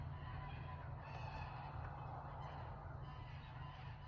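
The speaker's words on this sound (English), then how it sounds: "it was a boat lift" Boat lift letting out a continuous honking, goose-like drone outdoors on a sunny day, steady and moderately distant for several seconds with no talking.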